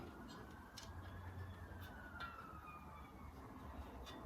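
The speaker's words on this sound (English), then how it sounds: "the bloody police start doing their sirens" A faint, distant police siren wails over a low steady background hum, its tone sliding slowly across the few seconds.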